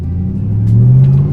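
A 1999 Pontiac Trans Am with an LS1 V8 accelerating hard through a transmission kick-down, a loud, close engine roar rising steadily in pitch.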